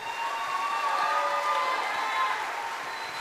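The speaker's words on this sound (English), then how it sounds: "can we give it one more round of applause to Miss Clarissa Rodriguez?" Audience applause for Clarissa Rodriguez at a mariachi performance, a short steady burst of clapping from a crowd with faint cheering, fairly distant and even throughout.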